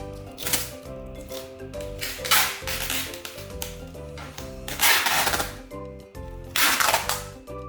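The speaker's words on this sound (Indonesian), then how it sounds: "Selanjutnya kita beri selotip seperti ini cool boxnya." Sticky tape is pulled and pressed onto a cool box while packing specimens, with repeated crackling rips and bursts over a faint background hum with steady tones, close by and without speech.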